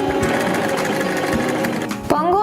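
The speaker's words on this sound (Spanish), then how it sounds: "Voy a apretar el pedal para realizar puntadas que lo aseguren." A Janome 523H sewing machine runs in a fast, steady whir, stitching back and forth to secure a button. The motor is close and loud, and it stops abruptly near the end.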